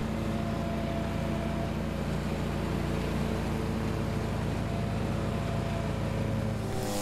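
A Hustler zero turn lawnmower fitted with a mulcher kit drones steadily while mowing back and forth under a tree, a constant engine hum with deck whir, close and even the whole time.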